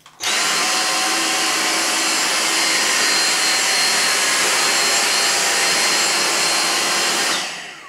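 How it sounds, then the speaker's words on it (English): Dyson V6 cordless vacuum cleaner on its regular power setting, lifting dog hair: a loud, steady, high-pitched motor whine that holds continuously for about seven seconds before spinning down. "Okay, starting with the machine on regular."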